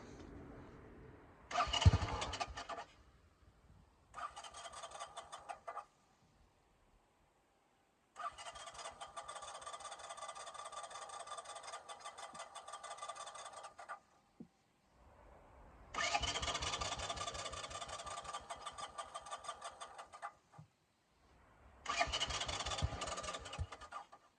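A 1984 Honda 200M barn-find motorcycle engine cranks over and catches in several separate bursts, each running loud and close for a few seconds with a steady mid-pitched putter before cutting out, separated by brief quiet gaps.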